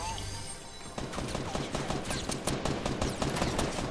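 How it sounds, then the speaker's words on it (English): Desert Eagle pistol shots in a video game crack in a rapid string of sharp, evenly spaced reports, moderately loud with faint echo, starting after a brief quieter lead-in, with voices talking in the background. "That's who was shooting the fucking deagle"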